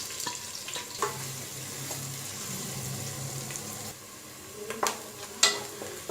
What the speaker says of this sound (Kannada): ನೋಡಿ ಈರುಳ್ಳಿ ಚೆನ್ನಾಗಿ ಫ್ರೈ ಆಗಿದೆ.